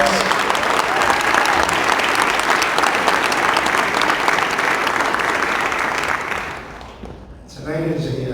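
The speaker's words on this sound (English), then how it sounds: "Can we give Miss New York a round of applause?" An audience gives a round of applause for Miss New York at an evening community event, sustained dense clapping that fills the room for several seconds before tapering off as a voice begins speaking.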